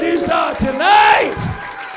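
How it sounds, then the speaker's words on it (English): A roast battle comedy show audience roars and cheers loudly, with whoops and rising yells blending into a short burst of excited noise. "How about one more round of applause"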